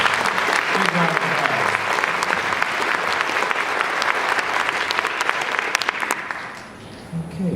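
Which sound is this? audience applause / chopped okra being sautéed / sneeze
audience applause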